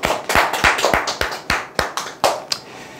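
Seminar audience at an insurance telemarketing sales coaching class claps briefly, about a dozen sharp, distinct hand claps in an uneven rhythm, close and fairly loud, with no talking over them.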